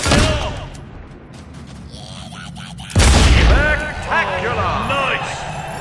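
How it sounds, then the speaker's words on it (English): Gunfire in a shooting contest in the video game Fable II, sharp booming shots that break out suddenly midway over crowd chatter and game voices, followed by rapid echoing reports. "It takes more than a good eye to shoot like that!"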